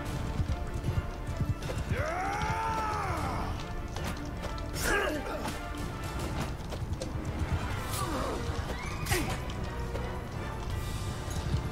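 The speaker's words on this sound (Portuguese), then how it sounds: "Para de correr, cavalo." Horse hooves clip-clop at a steady gallop in the medieval battle game Mount and Blade 2: Bannerlord, with a loud whinnying neigh early on and another later, over a constant din of battle noise.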